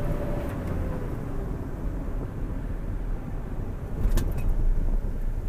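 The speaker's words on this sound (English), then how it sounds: "Really good running truck" A 2002 Chevy 3500 one-ton truck engine runs steadily at a low, constant rumble throughout, with a brief rise in loudness near the end and no voices.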